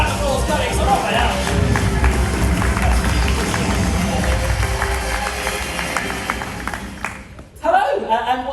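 A cruise-ship show audience keeps up steady applause and cheering for a volunteer coming on stage, a dense wash of clapping with a host talking over it until it suddenly cuts off near the end.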